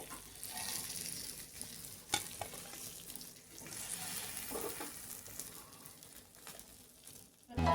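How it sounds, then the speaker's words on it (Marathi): Bangda mackerel fish frying in oil in a pan, a steady broad sizzle running throughout with a sharp clack near the two-second mark and a louder burst at the very end. "आता दोन्ही बाजूने हा छानपैकी फ्राय झालेला आहे."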